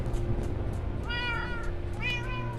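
A cat meows twice, thin rising-and-falling cries close by, over a steady low background hum.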